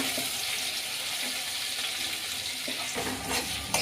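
Onions drop into hot oil already frying mustard seeds, urad dal, cumin and curry leaves, giving a steady close sizzle with light stirring and a sharper crackle near the end; no one talks.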